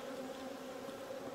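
Honey bees hum steadily around a frame of capped brood, a dense, continuous buzzing swarm close by with no pauses.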